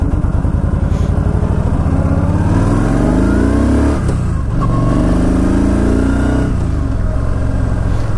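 A Yamaha V Star 1300 Tourer motorcycle is ridden with its engine droning loud and close, its pitch rising and falling with throttle changes, wind rushing throughout and no speech.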